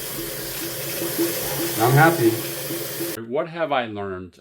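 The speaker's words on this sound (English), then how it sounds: "this water's pumping pure hot" Hot water pumping through a tankless water heater during a flush, a steady broadband rush of flowing water for about three seconds before it cuts off and someone speaks close to the mic.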